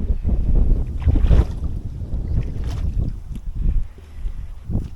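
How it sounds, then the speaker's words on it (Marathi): Strong wind roars and gusts against the microphone in heavy, uneven bursts, with a low rumbling buffet throughout. "वारा इकडे भारी सुटते फॅनची गरज नाही"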